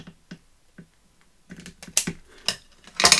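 Tim Holtz paper-crafting tool snipping the corner off a paper tag, a few soft clicks followed by sharper, louder cutting snaps near the end, close and quiet otherwise.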